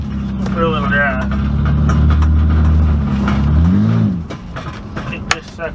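The engine of a Ford Ranger pickup being built as a rock bouncer, with its bed removed, runs during a short drive. The close, throaty note rises and falls, then drops away, followed by a few clunks.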